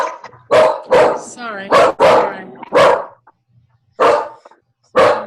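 Dogs barking indoors, a run of loud, sharp barks in irregular bursts separated by short silences, close to the microphone, with a brief spoken word between them.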